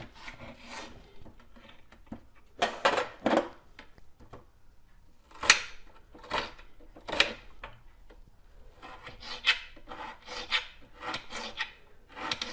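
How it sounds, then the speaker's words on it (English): A knife slices an onion on a wooden cutting board while making cabbage rolls, producing irregular clusters of close, crisp chopping and scraping strokes with short pauses between them and no speech. "We're gonna slice up the onion."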